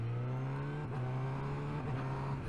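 A 2022 Honda CB1000R Black Edition motorcycle engine drones steadily at speed, its note dipping briefly twice as the quick shifter auto-blips through gear changes, with continuous wind and engine noise and no voices.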